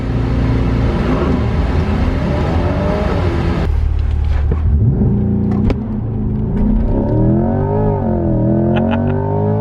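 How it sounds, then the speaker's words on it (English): A C8 Corvette launches on a race track using launch control, its engine roaring loud and steady as it climbs through the revs, with a sharp upshift partway through and the pitch rising again afterward. "Starting with launch control."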